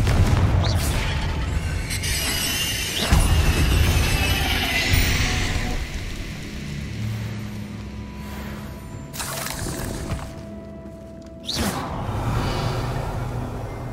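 Confringo spell blasts in Hogwarts Legacy hit as several loud booming explosions, each a sharp burst that fades into a rumbling tail, spaced a few seconds apart over a game background.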